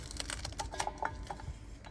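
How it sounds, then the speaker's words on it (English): A knife cutting lettuce for Hausa local salad, a string of quiet, crisp chopping taps at an irregular quick pace, close and faint, with no talk. "I'll just go ahead and cut my lettuce"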